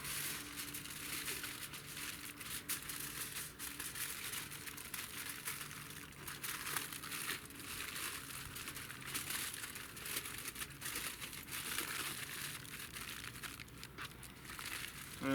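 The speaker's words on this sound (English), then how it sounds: "I'm going to need a little bit more tin foil just to seal up the top of it." Tin foil crumpled and folded by hand to seal up a tin foil dinner for outdoor fire cooking, a steady close crinkling and crushing that runs continuously throughout with no talk.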